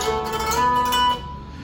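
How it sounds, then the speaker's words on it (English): Flamenco guitar played with a rapid five-stroke tremolo, a rippling stream of repeated plucked treble notes over a sustained bass, close and clear with no talking, fading slightly toward the end. "He does a 5-stroke tremolo, which sounds like this."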